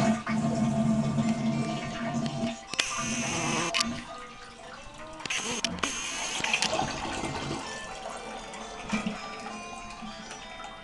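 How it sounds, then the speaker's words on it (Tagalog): Water rushes steadily into a household toilet tank refilling after a flush, following repair of a worn rubber flapper: a close, continuous hiss and gurgle with brief louder surges. "tumigil naman, nagkakarga ng tubig"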